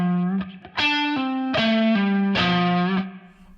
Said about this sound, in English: You can just do pull-offs and pick the first note like this.